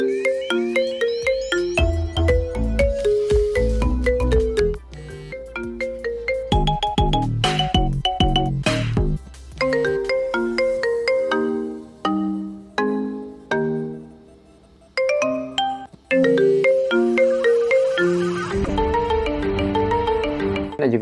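A custom ringtone plays on an iPhone, a loud electronic melody of bright repeated notes in a bouncy rhythm with short pauses, heard alone without talk.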